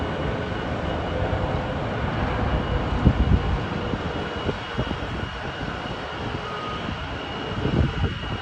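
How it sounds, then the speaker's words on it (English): A British Airways Airbus A320neo arriving at Heathrow from Frankfurt produces a strong, rumbling jet engine roar with gusty fluctuations, close and steady throughout, no speech. "British Airways A320neo. It's arriving at Heathrow from Frankfurt."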